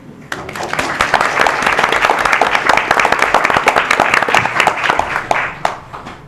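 Close, loud applause for a guest at a city council meeting, individual sharp claps clearly audible in a quick irregular rhythm that builds quickly, holds, then thins out near the end.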